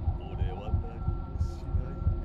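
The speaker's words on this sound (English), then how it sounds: "See, the heartbeat's getting faster," Rapid heartbeat thumps from the video game The Karaoke, a regular low pulse of about seven beats over a steady hum, with brief speech sounds on top.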